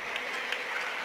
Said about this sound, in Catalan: Aplaudiments ja a la graderia.